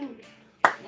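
A single sharp hand clap or brief burst of clapping from a church congregation, loud and abrupt near the end after a stretch of quiet murmuring.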